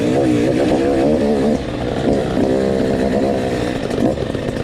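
A motorcycle fitted with a 105 kit, a new exhaust pipe and a new Electron carburetor runs loud and close, its steady buzzing drone rising and dipping slightly as the engine idles and revs, with no talk over it.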